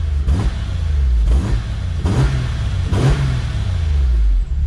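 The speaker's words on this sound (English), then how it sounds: "So now if I just blip the throttle." A 300 hp inline-six stroker engine in a long-travel Jeep barks through four quick throttle blips, each a sharp rev rising and falling back toward a deep idle, loud and close with no talk.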